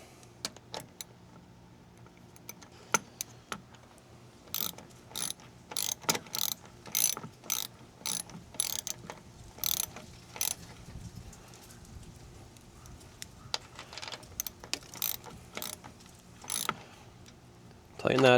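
Close, quiet clicking of a ratchet wrench tightening the nut on a car battery terminal comes in irregular bursts of rapid ratcheting with pauses between. A few metallic taps are mixed in and no one speaks.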